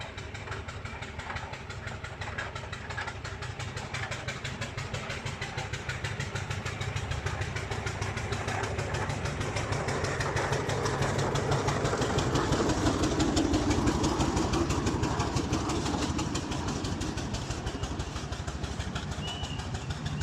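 A small-engine vehicle pulling a small wagon climbs a hill in high gear, its engine droning steadily and loudly with a fast, even rhythm, close by and without talk throughout.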